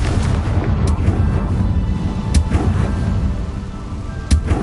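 Fire spell blasting in Hogwarts Legacy, a dense rumbling roar with several sharp bursts cutting through the sustained low boom, loud and close.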